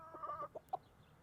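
A few soft, quick clucks from a rooster nearby, short and quiet, with a brief pause between them.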